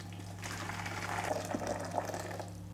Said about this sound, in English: So now I'm going to fill the prep machine with boiling hot water from the kettle.